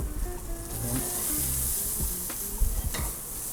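Shallots and garlic sizzle in a hot pan while being stirred, a steady close frying hiss with scraping stir strokes throughout and no talk.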